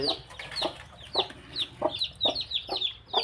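Chickens in a small farm flock with newly hatched chicks, a run of repeated clucks and chirpy calls at fairly regular intervals, close by and moderately loud, with no speech.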